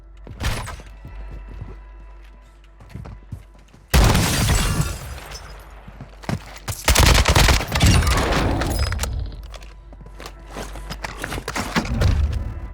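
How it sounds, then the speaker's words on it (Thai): Gunfire in the video game Warzone 2.0: loud bursts of automatic fire and single shots break out between quieter stretches, mixed with shattering and mechanical clatter, all up close. "ปืนผมแม่งโคตรแรงเลยว่ะเพื่อน ยิงศัตรูช็อตเดียวตายเลยครับ"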